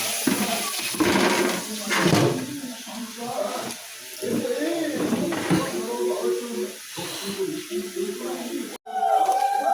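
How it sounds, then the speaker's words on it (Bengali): Water pours and splashes into a cooking pot holding moong dal, with a running, hissing flow that breaks off and restarts, heard close by while voices talk over it. "জল আর একটু দিলাম।"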